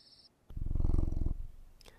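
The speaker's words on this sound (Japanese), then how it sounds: "猫がゴロゴロ言うときは甘えてるときですよね" A cat purrs in a Japanese horror video game, a close, low rhythmic rumble lasting under a second amid quiet surroundings.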